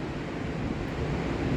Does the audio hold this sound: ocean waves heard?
yes